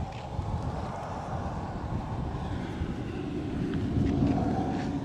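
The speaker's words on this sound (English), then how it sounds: "This wind is relentless." Strong, relentless wind blasts across a parking lot where a DJI Mini 4 Pro drone is set to launch, a loud continuous rumble buffeting the microphone and swelling near the end.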